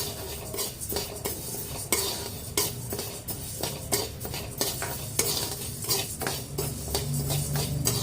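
A spoon stirs 100 grams of moong dal dry-roasting in a pan over a medium flame, giving a steady scraping and rattling of the lentils against the pan with soft sizzle, continuous and close, with no one speaking.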